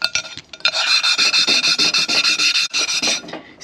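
A honing stone rasps against the bore of a K24A engine cylinder in steady rapid strokes, a loud close scraping with brief pauses and no talk.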